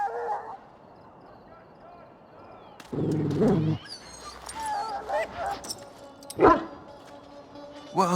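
A dog in a pen in the video game Dragon Age Origins gives short whimpers and yips, with brief barks between passages of speech.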